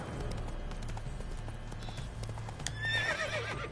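A horse gallops in The Witcher 3: Blood and Wine, its hooves giving a quick, steady clip-clop at moderate distance, with a whinny near the end over faint background sound.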